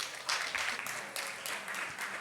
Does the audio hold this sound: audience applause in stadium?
yes